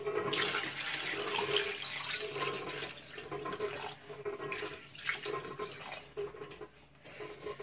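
Four litres of water poured into a large cooking pot for slow-cooked trotters (paça), a steady close rushing splash that continues throughout and eases off near the end, with no talk.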